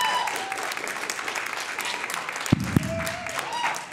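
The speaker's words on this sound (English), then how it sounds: "can we give it up for our online audience?" Church congregation applauding and cheering for an online audience, a steady broad wash of clapping and crowd noise throughout, with a couple of sharp knocks near the end.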